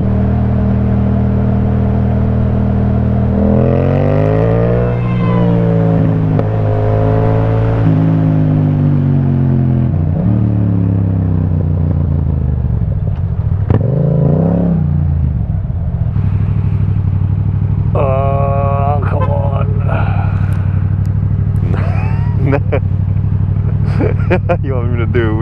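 Yamaha MT-07 motorcycle fitted with an Akrapovic titanium exhaust, ridden along a ring road in London, its engine droning and rising through gears with revving swells, under a rider's near-continuous talk.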